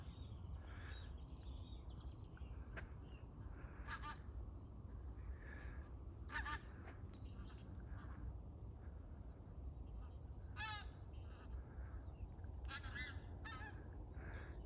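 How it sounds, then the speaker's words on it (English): Pink-footed geese calling in a walk across a fen, a flock giving repeated short honking calls at mid distance over steady low wind and background noise, with brief calls scattered through and a cluster near the end. "These are pink-footed geese."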